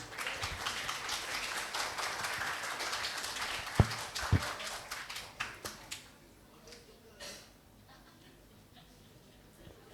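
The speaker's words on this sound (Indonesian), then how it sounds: "Mari kita berikan tepuk tangan yang meriah." A seminar audience on the digital revolution applauds the next speaker. A few seconds of dense, close clapping thin out into scattered individual claps that fade away.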